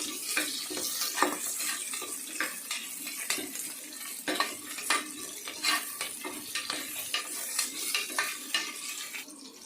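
Tomato and onion sauté for chicken biryani as a spoon repeatedly scrapes and clinks against the pot over a soft background sizzle, in an irregular, fairly quiet rhythm.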